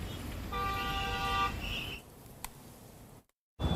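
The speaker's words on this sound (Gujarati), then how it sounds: "ઘણીવાર ટ્રાફિક સિગ્નલ પર ઉભેલા વાહન ચાલકો હોર્ન વગાડતા હોય છે" Vehicle horns honk at a traffic signal in Surat, a steady toot with harmonic layers running for about a second and a half over rumbling traffic, then a brief beep, a short silence and renewed street noise.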